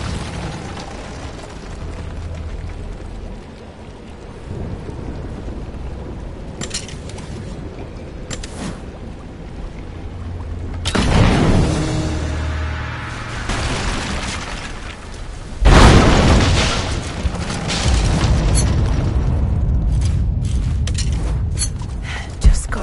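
Greek fire vessel blowing up unstable statue supports in Rise of the Tomb Raider, a loud boom with crumbling rumble midway, then a second sharp blast and lingering debris and rubble noise over a low game ambience.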